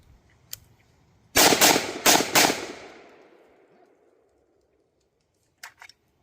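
A rifle fired through a suppressor sounds four quick, loud cracks in a tight burst, each trailing into a fading echo, then two fainter pops near the end in an otherwise quiet outdoor setting.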